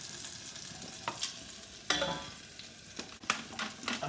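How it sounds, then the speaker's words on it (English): Spring onions flash frying in a very hot pan give a steady crackling sizzle, with sharp bursts and clatters as they are stirred and tossed, loud and close with no talking. "Now they will crackle, they'll sizzle, they'll go mad."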